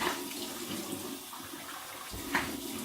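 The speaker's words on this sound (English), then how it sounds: "So here we go with my cold water rinse right from the tap" Cold water runs steadily from a tap for rinsing, a soft continuous splashing rush heard up close and fairly quiet, with a slight spatter near the end and no voices.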